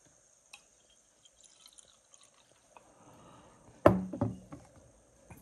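Water poured into a glass jar that already holds milk, set out for a folk ritual. After near quiet, a sudden splashing pour starts, then trails off into a few short trickles and drips.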